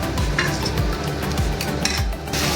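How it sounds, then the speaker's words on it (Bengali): Ginger, garlic and chili paste fries in a pan while a spatula stirs it, rhythmic scraping strokes over a steady close sizzle, with no talking. "এবার এটা সুন্দরভাবে মিক্সড করে আবারও এটাকে একটু কষতে দেব"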